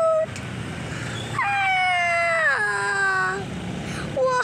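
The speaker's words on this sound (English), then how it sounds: "Belgian Malinois, baby Belgian Malinois, they're so cute" Belgian Malinois puppies let out a rising, wavering whine and yelp at close range, a drawn-out cry of a couple of seconds followed by a brief squeak.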